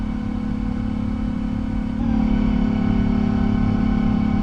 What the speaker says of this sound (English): God, those engine sounds are so much better.